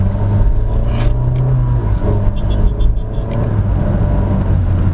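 A 2022 Honda City RS hatchback with a CVT accelerates at full throttle, a loud steady engine drone and road rumble heard from inside the cabin without talk.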